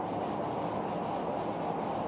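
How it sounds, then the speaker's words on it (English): Hand sanding polyester primer on motorcycle bodywork with 180 grit sandpaper, a steady, close, continuous abrasive rubbing with faint rhythmic strokes under hard pressure, no talking. "And then I also sand this right here also with the same motion."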